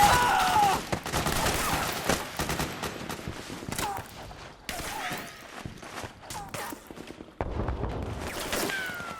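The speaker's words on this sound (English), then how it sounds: "Suppressing fire!" Bursts of automatic gunfire and scattered shots from Metal Gear Solid 4: Guns of the Patriots, loud and dense in waves across a combat scene, with shouted voices in the mix.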